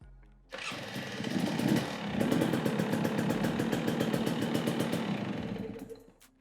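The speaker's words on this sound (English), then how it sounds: "the last step is to make sure the starting system on your bike works now" A KTM or Husqvarna motorcycle's electric starter whirs briefly before the engine fires and runs in a loud, rapid, close idle for several seconds, then cuts off.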